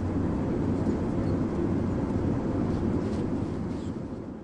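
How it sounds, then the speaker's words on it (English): A steady, moderately distant military transport aircraft engine rumble with deep low tones, droning evenly and slowly easing off toward the end. "Military transport."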